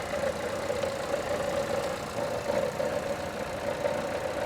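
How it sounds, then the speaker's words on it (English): A Buick Encore engine idles at close range with a low, even hum and a faint irregular shudder running through it; no talking. "There's a little shudder in the engine, it sounds like."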